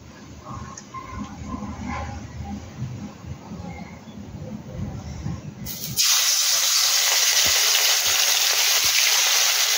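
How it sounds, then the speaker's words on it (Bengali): Muffled kitchen clatter and low voices give way to a loud, constant sizzle of small freshwater chela fish frying in oil, with a few soft knocks over it. "তো এটা একটা পিঠ ভেজে জাস্ট অন্য পিঠটা করবো"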